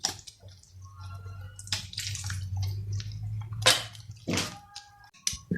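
Warm water trickles in bit by bit while dough for crispy stuffed Ramadan pastries is mixed by hand, giving soft splashes and wet squishing with a few sharper drips, close up with no talking.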